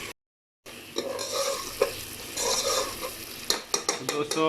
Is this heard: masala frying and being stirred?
yes